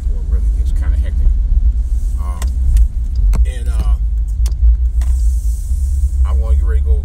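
Steady low road rumble and engine hum from inside a car stuck in traffic, continuous throughout, with someone talking over it.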